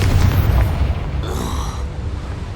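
A fiery Confringo spell from Hogwarts Legacy detonates in a deep, rumbling boom, heavy low-end blast decaying over a couple of seconds with a faint crackling tail.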